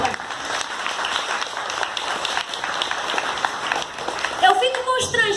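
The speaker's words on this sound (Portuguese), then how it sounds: "Salve de palmas pra ele, salve de palmas." A church congregation claps for a 75-year-old man, dense continuous applause throughout, with voices and a brief cheer rising over it toward the end.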